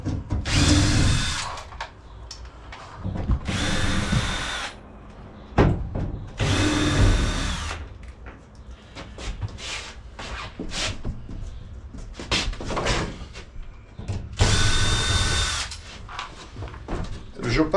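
A power drill drives screws into fittings inside a converted camper van during dismantling, sounding in several loud bursts of whirring with pauses between them while people talk nearby.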